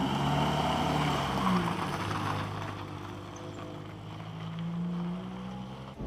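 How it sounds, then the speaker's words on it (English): A Ford Mk1 Fiesta with a four-speed manual driving along, a steady low engine drone with road and wind noise from inside the car, moderate and continuous, no talk. "Jack is very kindly going to take us for a little spin in the Mk1 Fiesta."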